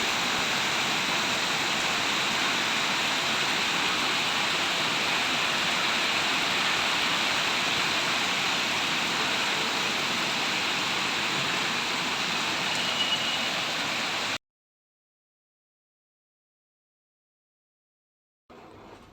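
Heavy rain pours in a dense, steady roar for several seconds, then cuts off abruptly into silence.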